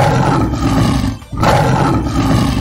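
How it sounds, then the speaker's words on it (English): A lion roar sound effect, loud and close, a deep rumbling bellow in two long surges separated by a brief pause for breath. "L for lion."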